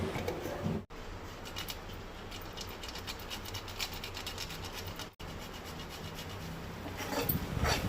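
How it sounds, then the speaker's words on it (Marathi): Nutmeg rasped against a fine grater for sweet modak filling, a steady close scraping rhythm running throughout, broken by two brief pauses and growing slightly louder near the end. "वेलची पावडर आनी जाळफळ किसून घालपाक जाय।"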